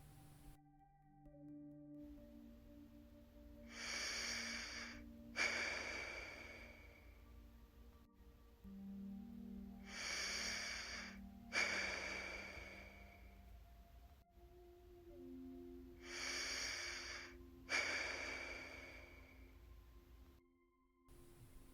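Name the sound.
deep breathing in and out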